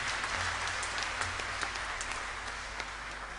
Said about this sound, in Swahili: Pigeni Yesu makofi mazuri